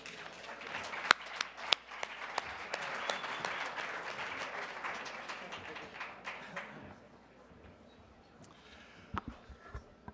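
An audience at a conference panel applauds steadily for several seconds to welcome a speaker, then the clapping thins out into scattered claps and room noise.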